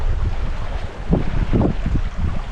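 A sailboat running straight downwind on the wide, shallow Laguna Madre in Texas, with steady wind rumble and rushing water around the hull, plus a few louder surges of splashing.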